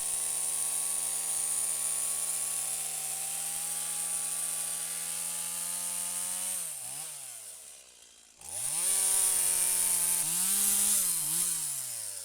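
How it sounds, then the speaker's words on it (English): A Milwaukee chainsaw cutting roots drones steadily at high revs, briefly bogging down and dropping away before roaring back up as it cuts, loud and close throughout. "I'm going to come in with the chainsaw and cut that right now"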